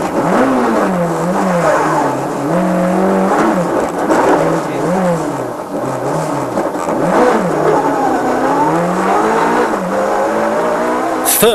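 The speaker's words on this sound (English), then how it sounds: "just 5 seconds behind the Corsa, it was Ian Chadwick in his Peugeot 106" A Peugeot 106 rally car driving flat out on a stage of the Mull rally, its engine revving hard, rising and falling through repeated gear changes, loud and close throughout with no talking.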